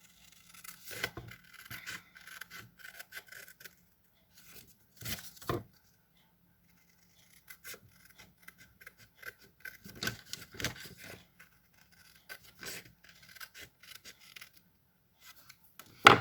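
Scissors cut through card paper in short, quiet bursts of snipping and rubbing, separated by pauses of near silence, close by with no talking.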